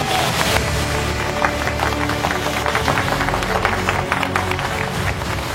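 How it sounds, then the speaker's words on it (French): An audience applauds the winners of the first Inca Express in Cusco, Peru, at a medal ceremony: steady, loud clapping from a crowd, continuing throughout over background music. "On peut les applaudir encore une fois."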